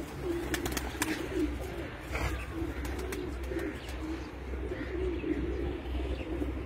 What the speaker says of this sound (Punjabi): ਛੋਟੇ ਛੋਟੇ ਕਬੂਤਰ ਜੇ